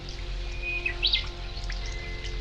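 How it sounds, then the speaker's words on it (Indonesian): Birds chirp and tweet in short bright calls, a couple of thin whistles and a quick burst of song, moderately close over a steady low hum. "Alangkah bahagianya burung ini, Kanda Prabu."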